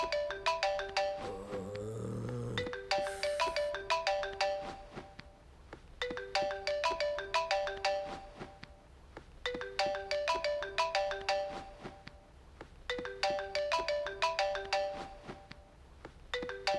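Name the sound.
mobile phone ringtone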